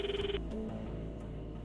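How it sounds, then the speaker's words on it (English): A telephone ringing in the visual novel Steins;Gate 0, an electronic ring tone that cuts off early, followed by lower sustained musical tones with no talking. "The footsteps overlapped with the sound of the ringing."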